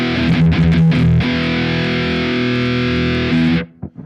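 Distorted electric guitar through an amp-modelled tone recorded into Logic Pro on iPad: a few choppy muted strums, then one long sustained overdriven chord ringing loud before cutting off with brief trailing noise.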